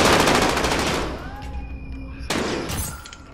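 Bursts of gunfire from a first-person shooter video game, loud and sharp at first, then fading, with a second burst near the end and some faint speech underneath.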